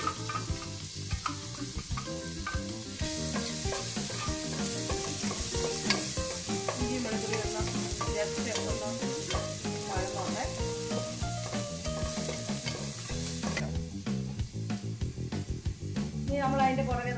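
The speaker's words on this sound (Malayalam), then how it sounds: "നമുക്ക് ഇനി ഇതിൻ്റെ അകത്തോട്ട് നമ്മുടെ ഇവിടെ ചതച്ച് വെച്ചിരിക്കുന്ന ഇഞ്ചി വെളുത്തുള്ളി" Crushed ginger and garlic dropped into hot coconut oil for a chicken curry, giving a steady, close, dense sizzle with stirring throughout.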